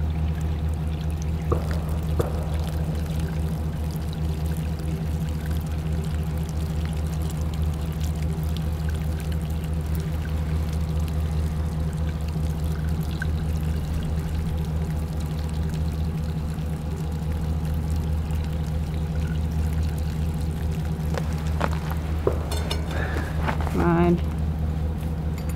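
Water runs through a hose at an RV park campsite in cold weather, a steady, even rush that continues throughout with a low hum underneath and faint, brief background activity.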